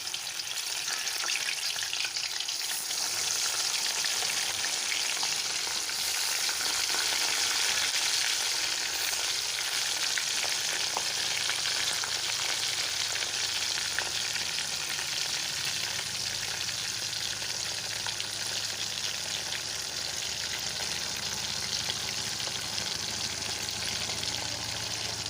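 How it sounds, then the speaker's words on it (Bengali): Pieces of koi fish fry in hot oil for village-style Bengali cooking, giving a steady, dense sizzle that holds evenly throughout with no talking. "বাকি মাছগুলোকেও আমি এভাবে ভেজে তুলে নেব।"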